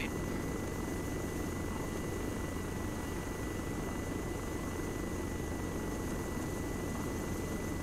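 A helicopter in the Arma 3 video game holds a steady, loud rotor and engine drone with a constant whine, unbroken and close throughout.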